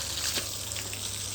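Water sprays from a pipe onto a floor in a steady, hissing rush, close and continuous for a brief moment without pauses.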